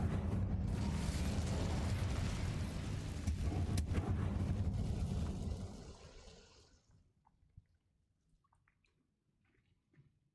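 Incendio fire spell cast in Hogwarts Legacy: a loud, sustained roaring rush of flame lasting several seconds, then dying away into faint scattered crackles and near silence.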